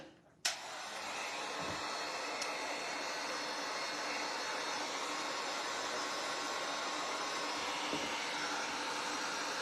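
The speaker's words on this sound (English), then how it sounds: "we're going to grab our dryer." A hair dryer switches on with a click and blows steadily, a loud, broad whooshing roar that holds constant to the end.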